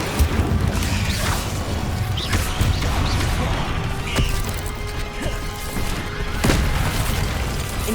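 The Incendio fire spell is cast during combat in Hogwarts Legacy. It plays as a loud, dense mix of whooshing magic, booming impacts and mechanical clanks that runs without a break, with sharp hits standing out now and then.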